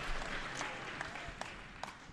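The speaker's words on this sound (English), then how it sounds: "Crowd's livening up." Crowd at a grappling match cheering and applauding, a steady wash of clapping with a few sharper bursts standing out, moderately distant and continuous throughout.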